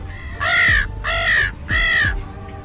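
A human voice imitates a crow, giving three loud, harsh caws in a steady, evenly spaced rhythm.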